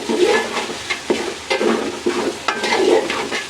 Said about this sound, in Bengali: এই যে চালটা আমার প্রায় ভাজা ভাজা হয়ে গেছে